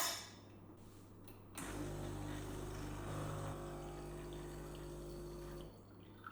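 Electactic espresso machine (CM5020BJ-UL) running a rinse through an empty filter basket, a pump hum and water flow starting abruptly, holding steady for about four seconds, then stopping.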